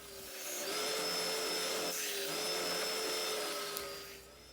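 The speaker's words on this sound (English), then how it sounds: "Then I took it over to my oscillating sander just to clean up all those burn marks and rough" An oscillating sander smoothing burn marks and rough edges on a wooden gun stock, a steady droning whine that starts up, runs evenly close by, then winds down, with faint tonal hum lines throughout.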